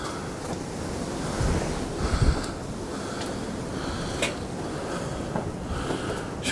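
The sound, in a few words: strong wind blowing on hilltop, wind noise on microphone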